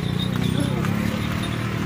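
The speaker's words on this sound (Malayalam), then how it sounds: "ഇത് കാണുന്ന വെള്ളയും കാപ്പി കളറും മിക്സ് ആയിട്ടുള്ളൊരു കുതിര" A white-and-brown horse pulls a passenger cart toward the Palani temple, its hooves clopping steadily beneath continuous nearby talk and crowd noise.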